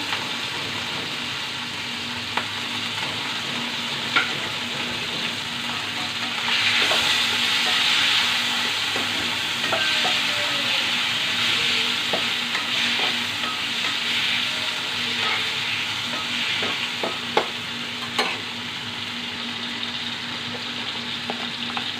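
Eggplant fries in a pan with tomato and ground coriander, giving a steady close sizzle and hiss with occasional scrapes and clicks of stirring, swelling briefly midway as the fresh tomato hits the oil; no one talks.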